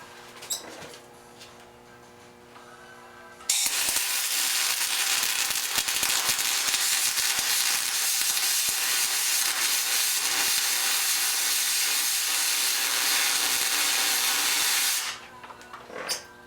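A MIG welder runs a bead with continuous crackling, sizzling arc noise, steady and close for about eleven seconds while the wire feed is adjusted, preceded and followed by quieter machine hum.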